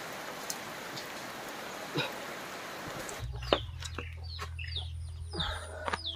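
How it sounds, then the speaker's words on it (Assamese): Steady light morning drizzle patters for the first half, then gives way to a quieter scene with chirping birds and a low steady hum. "সেই ৰাতিপুৱাৰ পৰা চিপ চিপকৈ বৰষুণ দিয়ে আছে।"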